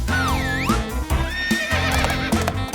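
Horse neigh and whinny sound effect, paired with galloping clip-clop hoofbeats, for a homemade hobby horse built from thread-bound materials; the loud, rising and falling whinnies ring out over a steady background.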